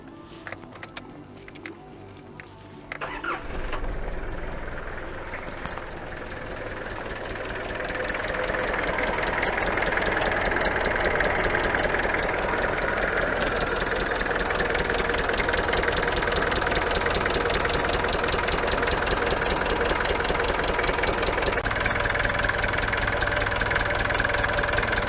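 A 1992 Nissan Terrano engine cranks, starts and settles into a steady idle after a drive belt replacement, running close and continuous with no speech.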